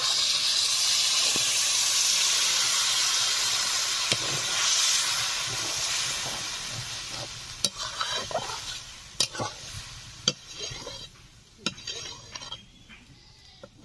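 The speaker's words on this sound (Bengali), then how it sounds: "ঝোল ফুটতে শুরু করে দিয়েছে" Fish curry broth coming to a boil in a pot, a steady hiss and bubbling wash running throughout, with occasional sharp clinks of utensils against the pot toward the end.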